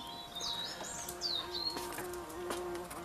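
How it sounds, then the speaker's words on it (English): Bees buzz among blooming roses in the west of Ireland, droning and hovering nearby, their pitch rising and falling as they move, with occasional bird chirps outdoors in the background. "Bees are buzzing."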